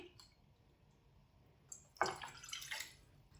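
One and a half cups of water pour into a pan over a lit flame while semolina is prepared, a brief close splash and trickle after a quiet start.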